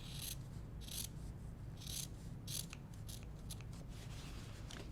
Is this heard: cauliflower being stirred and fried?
no